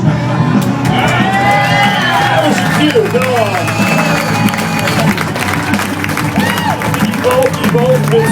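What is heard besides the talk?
audience applause and cheering for sound man Big Mick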